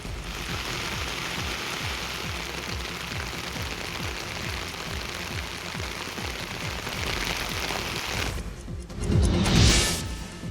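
Steady, dense rain pours down for a long stretch, a constant loud hiss with a brief gusty rush near the end.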